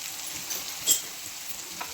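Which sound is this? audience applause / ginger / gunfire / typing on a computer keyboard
ginger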